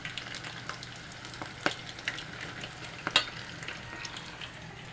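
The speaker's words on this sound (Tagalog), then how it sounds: "Last ito ang pinaka last batch nga prito sa tiil" Oil sizzles and crackles steadily as chicken feet fry, with occasional sharper pops and spatters, close by and without talking.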